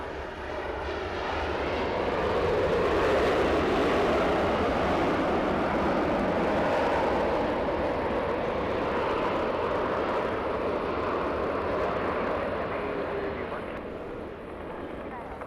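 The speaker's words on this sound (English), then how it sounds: "the butter machine with the A330 Hawaiian Airlines from Honolulu coming in" A Hawaiian Airlines Airbus A330 from Honolulu lands with a broad jet engine roar that swells, holds loud for several seconds and slowly eases off, while someone talks over it.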